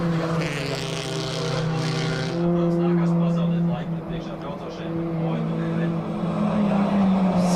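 Race cars roar past on the Biķernieku track in Latvia, engines rising and falling in pitch as they go by, with a commentator talking over the steady motor noise.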